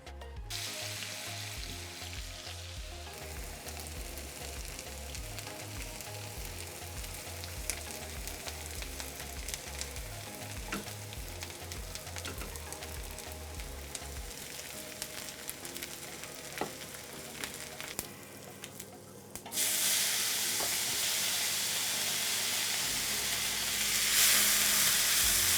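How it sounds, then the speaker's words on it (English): Onions fry in mustard oil for a Punjabi saag, crackling in a steady close-up sizzle that turns to a louder, brighter hiss near the end. "Okay, now we'll cook the onions until they get golden brown and sweet"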